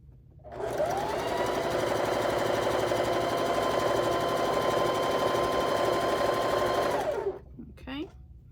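A sewing machine stitches cat-themed quilt blocks in one continuous, steady whirring run of about six seconds, starting and stopping cleanly, close and prominent, followed by a brief quieter sound after it stops.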